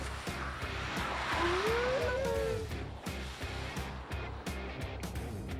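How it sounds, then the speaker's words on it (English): A mini MPV pulling out of a hairpin on a test track, driven flat out in second gear, its engine droning steadily and fairly loudly from close by with a brief tyre squeal. "My foot is flat in 2nd gear, trying to pull out of the hairpin."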